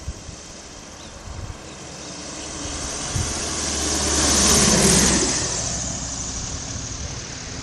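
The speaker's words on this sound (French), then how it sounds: "on va essayer de voir un petit atterrissage d'ULM" An ultralight aircraft lands at St Paul, Réunion. Its engine gives a continuous droning hum that swells to a peak midway as it passes nearer, then eases off slightly, with no voices.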